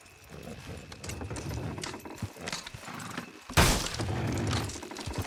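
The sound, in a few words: horses pulling wagon in video game Red Dead Redemption 2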